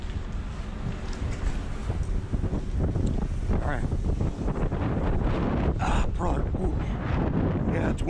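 Gusty wind buffets the microphone with a rough, roaring rush that rises and falls throughout, loud and continuous outdoors.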